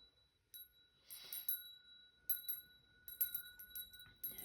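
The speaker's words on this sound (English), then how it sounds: "I am going to ring the bell" A small bell rings with a clear, sustained tone, followed by several quieter clinks and taps that fade out over a few seconds.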